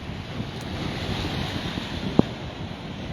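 Surf rolls steadily onto an ocean shore at sunrise in a constant broad wash, with wind buffeting the microphone and a single sharp knock near the end.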